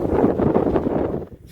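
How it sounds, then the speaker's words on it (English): Strong wind buffets the microphone high on a canyon ridge, a loud, gusty roar with rumbling low buffeting that eases off toward the end. "Pretty windy up here, excuse the wind."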